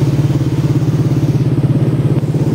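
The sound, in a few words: Yamaha Aerox scooter engine restarting after ignition repair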